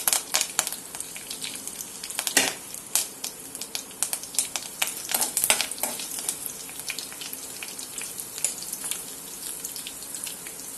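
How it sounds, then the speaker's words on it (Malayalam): Mustard seeds crackle and pop in hot oil as dried red chillies and curry leaves go into the tempering for a Kerala-style thoran, dense irregular snapping bursts that stay loud and close the whole time. "കടുക് പൊട്ടി തുടങ്ങി, വറ്റൽമുളകും കറിവേപ്പില ഇടുന്നു."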